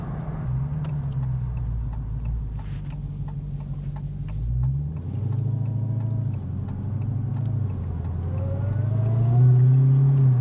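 A Dodge Challenger SRT Demon rolls over gravel, its engine rumbling steadily while small stones tick and ping sharply inside the wheel wells in scattered bursts, with the engine note rising toward the end.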